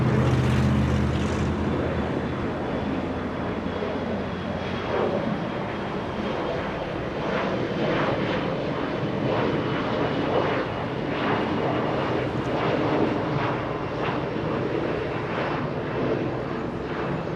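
A Qatar Airways airliner at Los Angeles International Airport under a marine layer gives off a continuous broad jet-engine roar, steady and fairly distant, filling the whole stretch without any talking.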